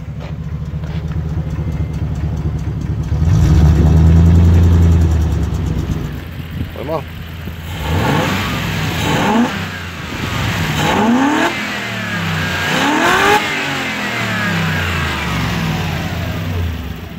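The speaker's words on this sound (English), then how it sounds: "With the exhaust connected, the vehicle sounds a lot more tame and civilized." A Range Rover Classic fitted with a Toyota 1UZ-FE V8 and a connected exhaust revs repeatedly, several rising and falling blips over a steady idle, close and loud, with voices speaking faintly underneath.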